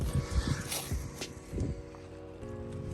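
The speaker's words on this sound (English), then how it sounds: "My dog just barks." A dog barks in a few short, close bursts outdoors while a car is being readied for an oil change, with light background noise around the barks.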